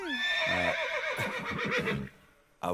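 Horse neighing as a story sound effect, a loud drawn-out whinny with quavering pitch, followed by a brief gap and a sharp return of sound at the end.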